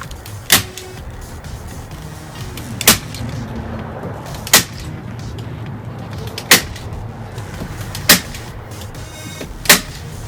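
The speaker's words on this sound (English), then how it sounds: "we're just going to load this staple gun again. Go back at it. Put lots of staples in it" A staple gun fires into a porch screen frame, six sharp, loud snaps spaced a second or two apart over a low steady background hum.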